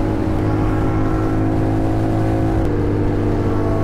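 A BMW XR motorcycle engine revs loudly and steadily up close, a continuous droning roar with a slight shift in pitch partway through and no voices over it.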